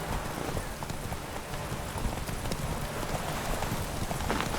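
Horse hooves clip-clop steadily in Witcher 3: The Wild Hunt, a constant close patter under a dense rain-like hiss.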